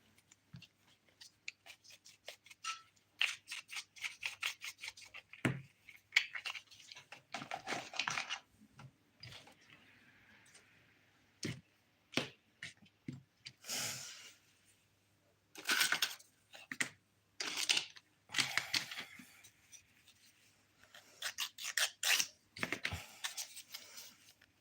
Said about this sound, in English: I like to always start at my pinky when I file.